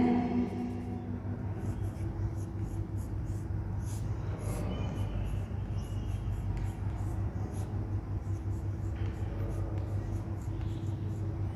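Chalk or marker taps and scratches on a board during a class 9 geography lecture, faint repeated ticks over a constant low room hum.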